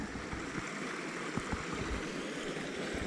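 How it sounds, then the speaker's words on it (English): Small mountain creek, a little tributary, flowing as a steady broad wash of running water, close and continuous, with faint gurgles and no voices. "this is a little creek, a little tributary, another true mountain stream."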